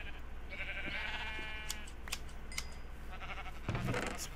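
A blocky Minecraft sheep lets out a short wavering bleat, faint and thin over a quiet background hiss, with a few soft clicks following.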